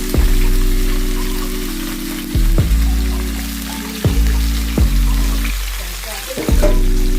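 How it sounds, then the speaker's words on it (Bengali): Crab rubbed with salt and turmeric frying in a pan for a Bengali crab do-pyaza, a loud steady sizzle with several sharp stirring clatters spaced through it. "আমি প্রথমে কাঁকড়াটা ভালো করে ভেজে নিচ্ছি।"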